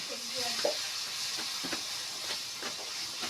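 Onion, ginger and garlic masala frying in oil in a pan, giving a steady close hiss-and-sizzle throughout, broken by a few soft scraping stirs.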